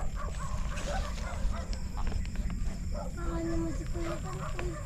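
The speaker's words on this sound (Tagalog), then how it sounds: "Na ay po mukhang hinahabol naman ng ating aso." Dog chasing an intruder at night through an eggplant field, barking and yelping at a distance amid rustling and outdoor noise, with someone talking and occasional whistle-like tones.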